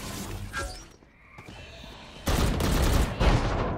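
Gunfire from the video game Valorant, several sharp bursts of shots with a crash-like impact, loud and close, following a quieter stretch of game ambience.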